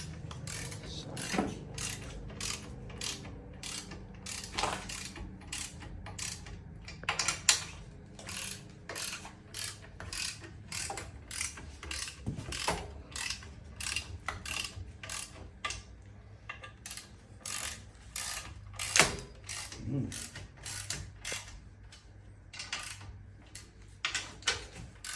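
Torque wrench tightening flywheel bolts on a Honda F20B engine swap: rapid series of close ratcheting clicks in repeated bursts with short pauses, small metallic clanks between them.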